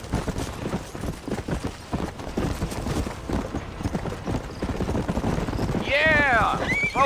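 Horse hooves clip-clop at a steady gallop in Red Dead Redemption, beneath a constant layer of game ambience, ending with a loud, close whinny that rises and falls in the final seconds.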